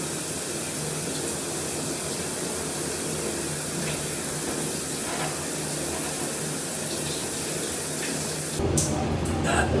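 Steady broadband rush of water from a shower in a private shower stall at a gas station, continuous and fairly close for the whole stretch, with a slight rise in the last second.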